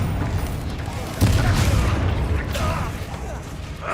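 A Confringo fire spell bursts in a wizard video game, a deep boom with a rumbling tail that is loud and close, layered over game effects and talk.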